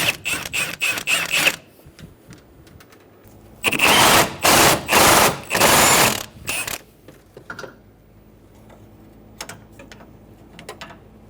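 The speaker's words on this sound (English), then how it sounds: "We're going to remove the 4 bolts out of the bottom of the motor mount using a 14mm socket." A socket ratchet loosens the bolts on the bottom of a front engine mount on a 2003-2008 Honda Pilot, using a 14mm socket. A quick run of close clicks is followed by several louder, longer bursts of ratcheting.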